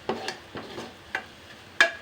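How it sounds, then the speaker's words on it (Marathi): Masala for a traditional Satara-style urad dal ghute roasts in a pan while being stirred, heard as a few separate scraping strokes over a faint sizzle, each one short and close. "आपला मसाला मस्त असा भाजला जात आहे"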